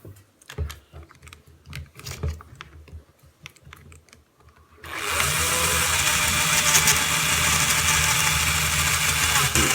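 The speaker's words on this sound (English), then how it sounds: "So I'm going to drill this ice cream cone" Light tapping and handling noises, then a small drill starts and runs loudly and continuously into an ice cream cone, a steady buzzing whir close by.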